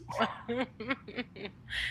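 Dogs bark outside during an indoor podcast recording, a run of about six quick barks in a row, moderately close, with a brief higher burst at the end.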